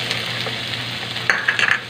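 Pork, garlic and onion sauté in a pan, giving a steady, close sizzle with light stirring scrapes and a few brief clinks near the end, with no voices.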